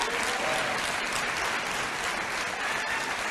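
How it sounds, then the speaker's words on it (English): Sustained audience applause at a borough address event in New York, a steady dense wash of clapping that stays loud and even throughout with no talk over it. "Clap for that, Mayor Adams."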